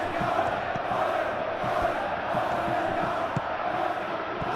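In eFootball 21, a Champions League match between Atletico Madrid and Barcelona, a stadium crowd keeps up a loud, steady roar of cheering and chanting, with no clear voices over it.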